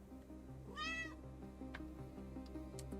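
A caged cat in Lia: Hacking Destiny lets out one clear, rising-and-falling meow over a low, steady game music bed with soft tonal notes.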